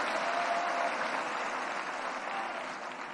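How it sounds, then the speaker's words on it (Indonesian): A large audience applauds at the closing of a political party's national working meeting, a dense, even wash of clapping that holds for several seconds and begins to taper. "berikan tepuk tangan"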